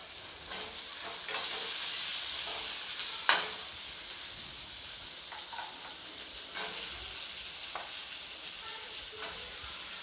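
Pieces of pumpkin sizzling and frying in a hot pan, a steady hiss with occasional sharper crackles and stirring scrapes, close by.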